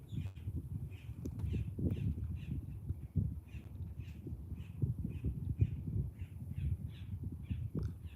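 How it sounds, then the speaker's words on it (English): Repeated bird calls by Lake Okeechobee, soft dove-like notes recurring in short bursts every half second or so over a steady low rumble of wind or surf, no talking. "They look like seagulls, but they sound like doves."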